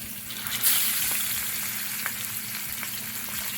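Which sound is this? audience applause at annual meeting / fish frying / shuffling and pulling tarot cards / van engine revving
fish frying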